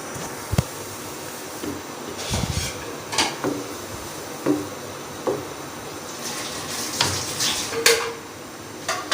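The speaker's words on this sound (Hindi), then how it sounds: "अब 20 मिनट हम इसको भूनेंगे ताकि हमारा चिकन भी अच्छी तरह गल जाए" Chicken for biryani is sautéed in a pot, with a spoon stirring and knocking against the metal in irregular clanks and scrapes over a soft sizzle, and no talking.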